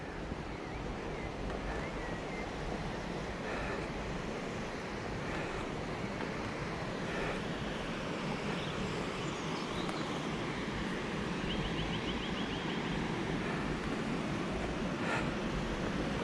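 River Medway water flowing down at East Farleigh Lock, a steady broadband rushing roar that holds evenly throughout, with wind buffeting the microphone and no voices.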